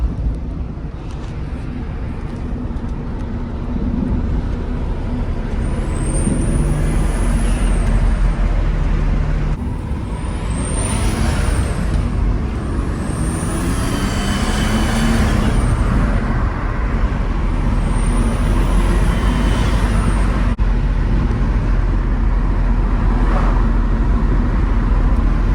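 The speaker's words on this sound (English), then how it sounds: "the test drive went great. The car's running good, sounds good." A Nissan Skyline R33 GTST with a freshly rebuilt RB25DET engine on its first test drive, a steady engine and road drone heard from inside the car, loud and continuous with no talk.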